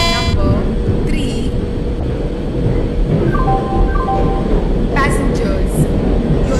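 Rumbling train noise from an Indian train simulator game as a passenger express departs, a steady loud low roar with brief horn-like tones and tonal chimes layered over it, a station announcement voice talking throughout.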